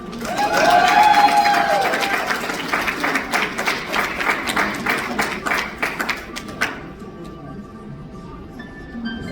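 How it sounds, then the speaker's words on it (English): An audience at a cosplay convention applauds the costumed entrants, a loud burst of many hands that swells early, then thins into scattered claps and fades out after about seven seconds, with crowd voices underneath. "Everybody give a round of applause"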